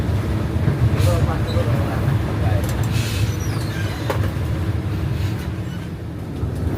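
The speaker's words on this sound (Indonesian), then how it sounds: "Dan Mas Alek menggiring bus ini menuju ke SPBU" A PO Sari Indah night bus rumbles along toward a fuel station, its low engine drone and road noise steady throughout, with a person talking over it.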